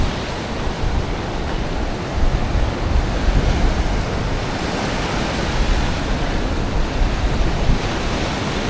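Rough ocean surf churning at a rip tide on a beach, a continuous loud wash of breaking waves and rushing water with some wind buffeting, no voices.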